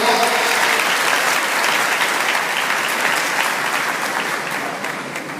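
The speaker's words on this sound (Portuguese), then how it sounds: "Vamos dar uma salva de palmas a essa palavra tão maravilhosa, tão providência." Congregation applauding during a Christian talk at a church gathering, a dense sustained round of clapping that holds steady and then fades slightly toward the end.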